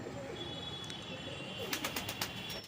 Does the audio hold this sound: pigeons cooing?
yes